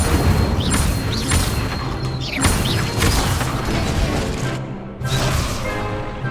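Incendio fire spell cast in Hogwarts Legacy amid loud game action, several heavy crashing bursts and mechanical clanks in close succession, with chirping effects overhead and a brief drop to near-silence before the noise resumes.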